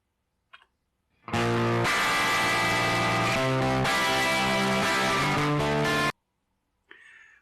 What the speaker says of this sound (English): We definitely get that rock and roll distortion effect.